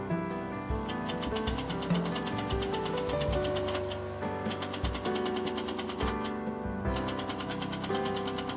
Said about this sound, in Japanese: 切り替えの際へ押さえミシンをかけます